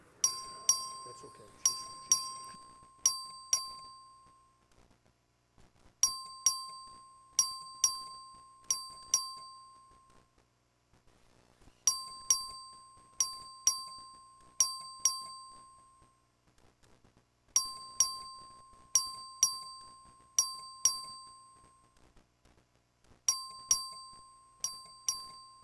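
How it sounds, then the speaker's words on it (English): A clerk rings the bell for a record vote in the Texas House chamber, sounding repeated clusters of sharp electronic dings in bursts of about five strikes, each burst separated by short pauses, loud and clear. "This is a record vote. The clerk will ring the bell."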